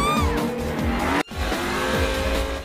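Cartoon race cars from the Cars franchise roar past with loud revving engines and squealing tires, a brief cut midway, no talk.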